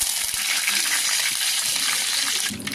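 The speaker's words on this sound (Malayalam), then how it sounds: "കടുക് പൊട്ടി വരുന്നുണ്ട്." Mustard seeds spluttering in hot oil in a pan for a Kerala prawn and snake gourd theeyal, a dense close crackle of rapid pops that stays steady, with a short drop near the end.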